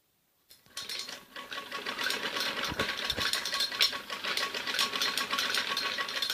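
A sewing machine stitching an umbrella frock whirs into a steady, fast rattling run up close, mechanical chatter continuing evenly without speech.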